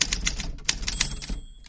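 Typewriter keys clack in a quick irregular burst of sharp strikes, close and crisp, followed by a bright bell ding as the carriage returns, with no voices.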